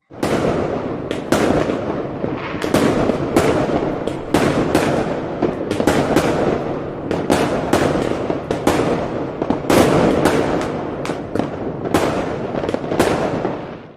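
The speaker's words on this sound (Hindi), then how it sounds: "लाहौर में पहली मर्तबा इलेक्ट्रिक आतिशबाजी के जरिए नए साल को खुशामदीद बोला गया" Electric fireworks for New Year in Lahore crackle and boom continuously, with repeated sharp bursts layered over a steady roar of distant explosions, loud and dense throughout.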